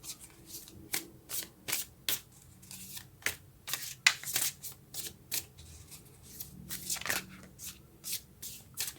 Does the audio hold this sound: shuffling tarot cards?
yes